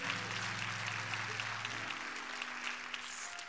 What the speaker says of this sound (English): Let's give him a rousing applause.